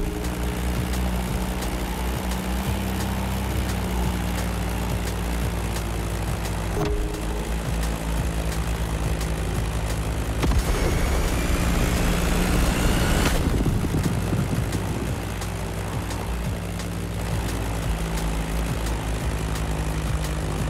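A Beechcraft Staggerwing biplane's propeller engine in the game The Crew Motorfest drones loudly and steadily throughout, with a brief swell in pitch and intensity midway before it settles back to an even hum.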